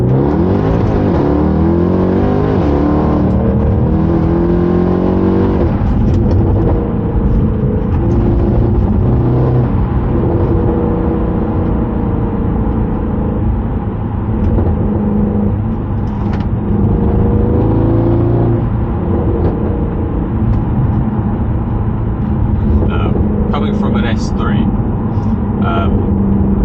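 A 2011 Mercedes C63 AMG Edition 125 is driven in manual mode, its engine droning and revving steadily with audible gear changes, running close and loud beneath continuous talking from the driver.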